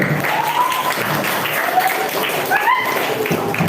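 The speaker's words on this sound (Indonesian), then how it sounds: "Tepuk tangan untuk Ustadz Aden." Audience clapping at an Islamic religious gathering for Hari Santri prayers and sermon, a steady patter of applause at moderate level with a voice speaking over it throughout.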